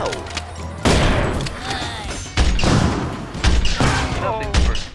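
A rifle-like gun fires in the PlayStation Move Heroes video game, heavy booming bursts arriving in several waves with thuds and ringing tails, while a voice narrates over them.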